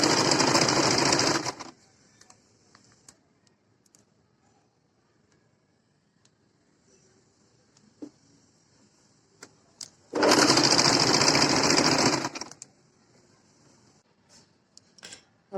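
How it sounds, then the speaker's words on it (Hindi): An electric sewing machine stitches a seam on a kurti in two loud, steady runs of about two seconds each. A long near-silent stretch separates them, with only faint handling clicks. "और फिर इसके बाहर से इस पर सिलाई लगा देंगे।"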